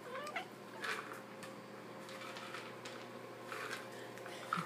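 A house cat meows repeatedly indoors, several drawn-out, plaintive calls at uneven intervals over a low steady background hum, fairly close and moderately loud, with no talking.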